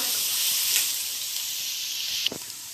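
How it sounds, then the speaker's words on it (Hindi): Garlic paste sizzling in hot oil in a pan, a steady bright hiss that holds throughout with a small clatter near the end. "सबसे पहले मैं इसमें लहसुन का पेस्ट ऐड करूंगी और इसको थोड़ा सा फ्राई कर लेंगे हल्का सा"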